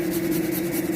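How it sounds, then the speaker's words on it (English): Garlic rubbed against a grater, a quick rhythmic scraping with soft repeated strokes, close and fairly loud, alone without talk. "grate the garlic"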